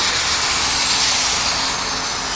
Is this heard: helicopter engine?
yes